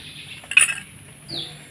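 A pot of palm syrup is lifted off a kitchen stove, giving a brief metallic clink and scrape of pot against the stovetop, followed by a soft faint rattle, with no talking.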